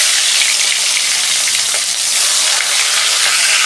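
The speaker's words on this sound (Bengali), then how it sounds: "আমি মাছ দুটো করে ভেজে নেব।" Two pieces of catla fish fry in hot oil in a kadai, giving a loud, continuous, close sizzling hiss with no voices.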